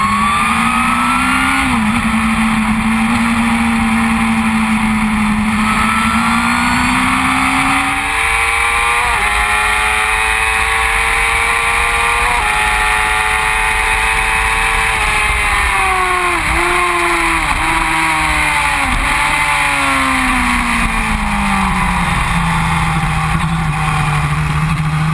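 A 2011 Suzuki GSX-R 750 sport bike rides on the road, its engine droning loudly and steadily with rising and falling revs through gear changes, heard close over constant wind noise.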